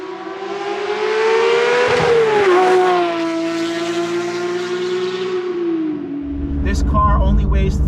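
A Porsche GT3 engine revving hard toward 9,000 RPM, a loud close high-pitched wail that climbs, dips briefly, holds, then drops away as a brief chirp and scrape follow.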